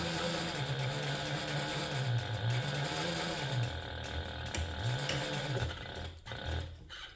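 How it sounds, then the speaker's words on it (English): Domestic sewing machine stitching leather on a handbag, its motor whirring in rising and falling runs with a rapid needle chatter, a squeak and the clunk of the needle positioner as it stops, close and steady. "I know that my machine is squeaking, but the other sound that my sewing machine makes is not because it's sick or anything's wrong with it"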